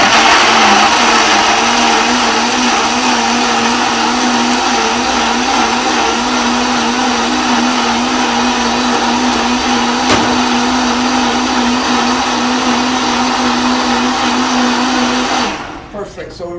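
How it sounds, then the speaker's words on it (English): Countertop blender running at high speed while blending coconut cacao milk, a loud, steady whir close up that holds for about fifteen seconds before winding down and stopping. "So we run the blender at high speed."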